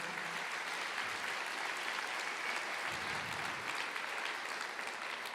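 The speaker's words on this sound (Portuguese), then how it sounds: "Aplauda o Senhor." A church congregation claps at a sermon, a soft, even patter of applause heard from a distance, steady throughout with no voices standing out.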